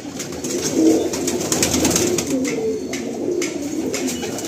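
Racing pigeons in a busy Kolkata loft coo in overlapping, throaty murmurs, a continuous close chorus from many birds with no talking.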